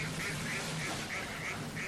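Mallard ducks and greylag geese call across a shallow reedy pond in a wild wetland, with a steady run of repeated nasal quacks and honks at moderate distance over a constant background murmur.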